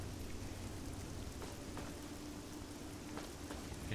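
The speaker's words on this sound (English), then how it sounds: "It's raining." Steady rain falling in Fallout 3, a soft continuous hiss with faint scattered drops, quiet and unbroken with no voices.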